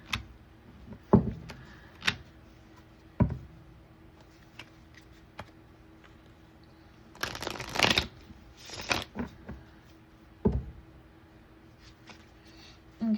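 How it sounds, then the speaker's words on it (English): Cards from a love oracle deck are shuffled and handled in short riffling bursts and taps, scattered across a quiet room, one longer shuffle in the middle. "I'm going to go ahead and get us some cards out of this love oracle deck"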